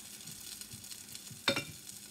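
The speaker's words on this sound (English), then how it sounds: "Listen to the sizzle." A steady low crackle of spaghetti squash hash browns frying in a pan, with one brief louder sizzling burst as a patty hits the hot oil.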